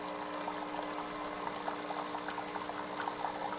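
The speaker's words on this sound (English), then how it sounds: "It's dripping, just a constant drip, drip, drip, drip, drip." Water drips steadily from a leaking Breville Barista Express espresso machine in brushed stainless steel, a constant run of small faint drops over a low steady hum.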